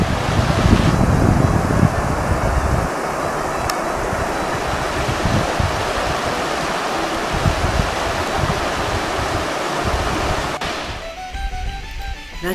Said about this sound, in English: Love seeing the water come into the creek, filling it up.